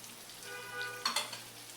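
Spices sizzle softly in a pan while being stirred for egg bhurji, a quiet steady crackle with a brief louder scrape of mixing near the end.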